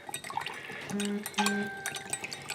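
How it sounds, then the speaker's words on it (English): Germall Plus preservative is stirred into a homemade conditioner mix, making soft liquid swishes and light clinks of a utensil against a container, close and brief with short tonal scrapes. "So I'm going to give that Germal Plus a little bit of a stir."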